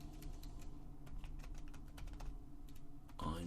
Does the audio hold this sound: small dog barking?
no